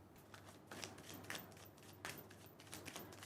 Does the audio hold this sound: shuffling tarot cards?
yes